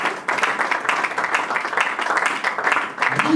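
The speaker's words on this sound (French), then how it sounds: "On acclame le Seigneur Jésus." Church congregation applauding steadily for several seconds, a dense, continuous wash of clapping hands with a murmur of voices mixed in.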